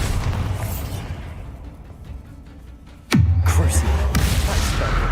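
A Bombarda explosion spell going off in the game Hogwarts Legacy: one sudden loud booming blast that follows a quieter stretch and is held by a heavy rumbling tail, with no talk.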